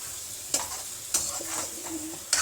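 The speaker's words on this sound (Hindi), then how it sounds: "थोड़ा मसाला भूनने देते, तेल आने देते हैं मसाले से" Masala spices frying in oil in a pan for capsicum paneer, a steady close sizzle broken by several sharp scrapes of a spoon stirring against the pan.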